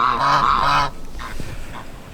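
A group of geese honks loudly in a dense, overlapping burst in an outdoor garden, then drops away to quieter, scattered calls and faint background noise.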